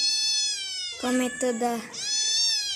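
A cat meows loudly and close: a long drawn-out cry, a few short choppy calls, then another long meow.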